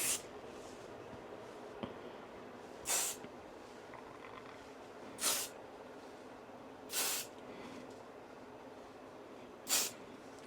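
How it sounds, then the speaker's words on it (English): An aerosol hairspray can fires five short, sharp bursts onto styled hair, close and crisp, evenly spaced a couple of seconds apart with quiet gaps between. "let me use some hairspray to secure this bit"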